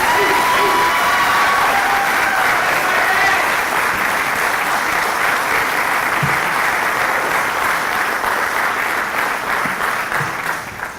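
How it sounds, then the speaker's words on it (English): Sustained applause from an audience at a service celebration ceremony, many hands clapping loudly and steadily for about ten seconds before tapering off at the end. "I'm glad that y'all were doing all that clapping after the end"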